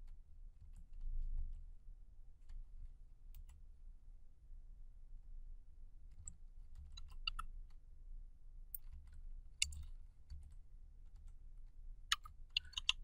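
Faint, sparse typing on a computer keyboard while writing code in Visual Studio, with scattered light clicks and taps over quiet room noise.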